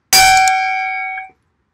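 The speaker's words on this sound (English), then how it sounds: "Ding the bell." A single bright metallic bell ding rings out alone, struck once with a sharp attack and a clear sustained tone that fades over about a second before cutting off.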